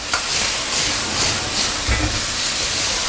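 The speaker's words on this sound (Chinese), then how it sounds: "这个就刚刚腌好的牛肉啊，直接下锅" Marinated beef hitting a hot wok over the highest flame, a loud continuous sizzle and hiss with faint clatter of stirring, close and without speech.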